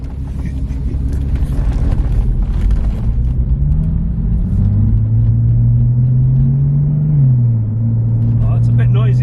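A Porsche 996 with a valved Cargraphic exhaust set to loud mode rumbles steadily, its deep drone rising as the revs climb and then settling back, with voices talking over it.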